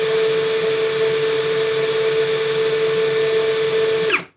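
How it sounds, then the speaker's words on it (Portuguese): A Hanabi cordless drill driver motor hums loudly at low speed, a steady, low-pitched whine for several seconds, then winds down abruptly when released. "Primeiro com a parafusadeira furadeira."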